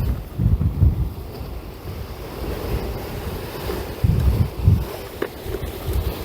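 Waves wash and splash over rocks on the Yorkshire coast at Cayton Bay and Filey Brigg, with steady wind buffeting the microphone and a few heavier surges breaking close by.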